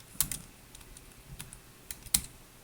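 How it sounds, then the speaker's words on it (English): Sparse, irregular keystrokes on a computer keyboard, a handful of quiet clicks with pauses between them, heard alone in a quiet room. "I type pictures."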